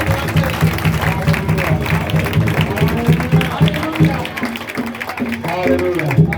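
A congregation at a Christian service in Mumbai claps in praise, a rough wash of many hands beating under loud voices speaking and calling out over the top.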